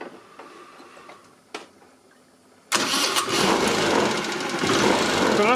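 A Kymco Super8 4T four-stroke scooter with a freshly adjusted carburetor catches after a few faint cranking clicks and bursts into a loud, steady, close-up idle that runs to the end.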